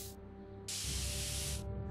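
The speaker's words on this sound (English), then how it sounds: "Let's see if we can't get that spray paint." A spray paint can hisses in the Back to the Future video game, a brief puff followed by a longer steady hiss of about a second over a low game hum.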